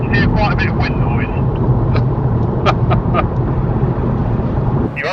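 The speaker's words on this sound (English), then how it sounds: "So I can all of a sudden hear quite a bit of wind noise." Loud, steady rushing of wind and road noise inside a moving car, with people talking over the constant roar.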